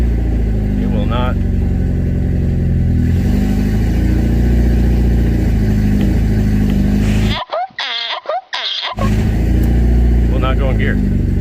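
A Mitsubishi Evo X engine running loud and steady nearby, rising briefly in a couple of revs, with a person talking over it.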